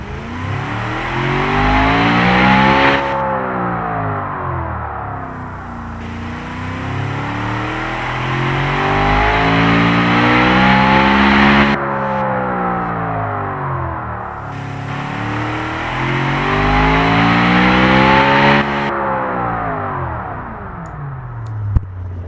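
A GT car engine in a video game revs up and down in three long sweeping cycles, its loud mid-pitched whine climbing and falling through the gears with brief shift cuts, heard alone without speech.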